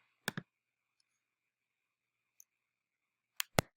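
Mouse button clicks used to save a form on a computer: a quick double click near the start, a faint single tick midway, then two sharper clicks near the end, close and isolated in near silence.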